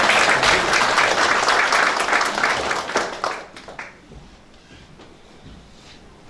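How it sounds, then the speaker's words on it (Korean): A crowd applauds steadily for about three seconds at a peace ambassadors' council event, then the clapping fades out to near quiet. "큰 박수로 환영해 주시겠습니다."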